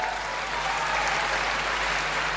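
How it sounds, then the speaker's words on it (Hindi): Audience clapping at a Hindi kavi sammelan poetry gathering, a steady, even wash of many hands from a crowd, with a low hum underneath and no speech. "आशीर्वाद दे सकते हो ताली बजा के ऐसे करके"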